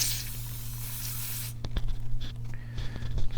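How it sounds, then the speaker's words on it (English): Brake cleaner hisses in a continuous spray onto oil pump parts for about a second and a half, close up, followed by scattered clicks and small handling noises. "Brake clean helps get all the really fine particles off of there from the solvent tank"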